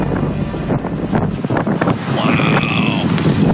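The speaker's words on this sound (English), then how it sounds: "I started filming and I realized how fast that the gusts were" Strong storm wind gusts in the open near a parking lot, a loud continuous roar of wind buffeting the microphone, rising and falling with the gusts, with no talking.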